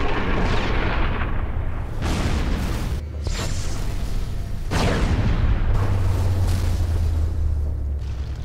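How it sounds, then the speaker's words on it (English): Heavy explosions boom in the Sniper Elite V2 video game: repeated loud blasts with rumbling decay, followed by a sustained low roar. "you watch the sweet, sweet explosion as you slowly walk away like a badass"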